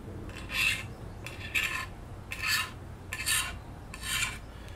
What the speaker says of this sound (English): very, very gently and very gradually scrape away little pieces of binding